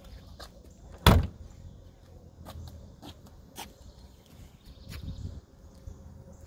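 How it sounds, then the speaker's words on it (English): A 1937 Ford Tudor slantback's car door is shut with a single sharp slam, followed by quieter clicks and knocks over low background hum. "Let me shut this door."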